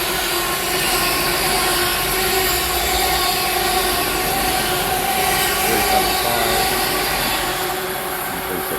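A 12-car British Rail Class 350 electric multiple unit runs past at Bushey on the West Coast Main Line, a loud, continuous rumble and hum with steady wheel and rail noise sustained throughout, no voices.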